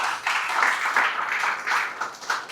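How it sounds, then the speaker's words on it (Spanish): Church congregation applause during a sermon, a soft, fairly distant wash of clapping that pulses for a couple of seconds without any talk. "¿Se merece un aplauso a nuestro Señor o qué?"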